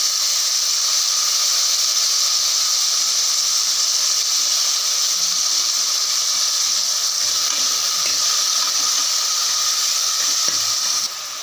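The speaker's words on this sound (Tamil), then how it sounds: "நல்லா எண்ணெயில் வதங்கட்டும் இப்போ தக்காளி எடுத்து போட்டுக்கலாம்" Tomatoes frying in hot oil in a pan for a village-style country chicken curry, giving a steady, loud, even hiss and sizzle that runs without break and drops slightly at the very end.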